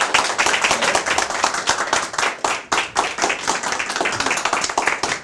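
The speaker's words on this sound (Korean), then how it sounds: "우리 장애도 축복이다라는 주제로 강의해 주실 백금기 강사님을 큰 박수로 모시겠습니다." Continuous lecture audience applause welcoming a speaker, dense clapping from many hands that stays steady and loud throughout, with no talking over it.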